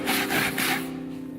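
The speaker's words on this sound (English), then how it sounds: "Then clean it up with some sandpaper." Sandpaper rubs a wooden pulley in three quick back-and-forth strokes, close and soft, with a low hum underneath.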